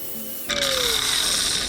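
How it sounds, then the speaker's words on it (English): A battery angle grinder with an abrasive disc starts up partway through and then whines steadily while it sands the edges of a small fishing boat, loud and close. "So I got my angle grinder with an abrasive disc."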